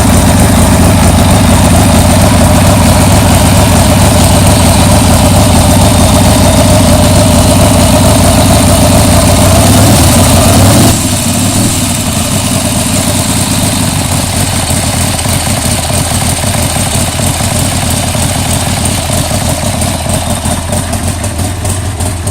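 A 1989 Harley-Davidson Sportster engine idles after a cold start, a loud, steady, continuous rumble close by with no voices.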